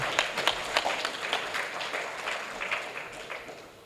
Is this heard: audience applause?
yes